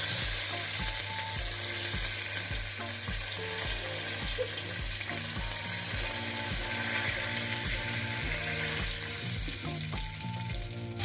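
Curry leaves sizzle and crackle in hot oil with dried red chilies for rice ravva upma, a faint, steady frying hiss under quick, regular ticking and clicking.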